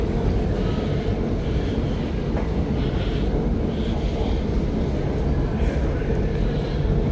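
A Munich underground train rumbles steadily, a dense low roar of wheels and motors with faint higher rattles, filling the station without pause.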